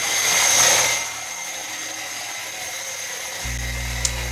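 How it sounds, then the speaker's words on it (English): A wet-dry grinder works a concrete countertop with a continuous high-pitched whine that swells briefly at the start, then holds steady, with a low hum joining near the end. "At this point we are starting to grind down our countertop, and you can start to see the rocks exposed underneath."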